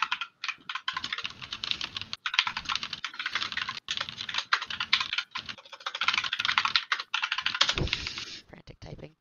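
Rapid, frantic typing on a computer keyboard rattles on almost without pause, dense bursts of key clicks close to the microphone with brief gaps and a faint voice underneath.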